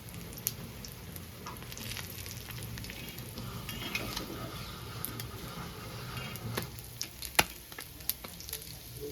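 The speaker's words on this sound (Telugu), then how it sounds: "సిమ్లో పెట్టుకొని ఫ్రై చేసుకోవాలి చేపల్ని" Fish fries in a pan over a low flame, a quiet steady sizzle broken by small pops and a few sharp utensil clicks near the end.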